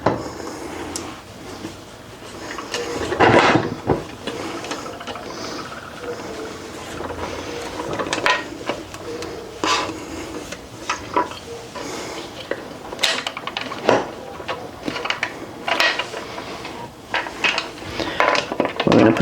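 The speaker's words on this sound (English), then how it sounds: "Lid's going on." Metal lid being set onto a home canner of vinegared water for canning turkey soup starter, with close clanks, scrapes and knocks of metal on metal spread over several seconds.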